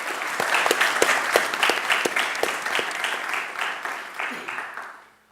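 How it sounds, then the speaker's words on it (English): Audience applause for the negative team at a debate, many hands clapping in a steady patter with some sharper individual claps, fading out toward the end while a voice briefly speaks. "one applause for ladies."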